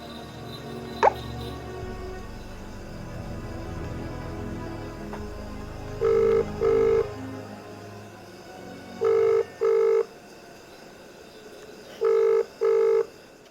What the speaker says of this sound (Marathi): बरं फोन लावायचं.